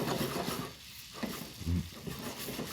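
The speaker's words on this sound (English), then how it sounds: "I'm going to add my bananas to this mixture." Bananas sizzle in a hot brown sugar mixture in a pan, a soft, close crackle with stirring scrapes.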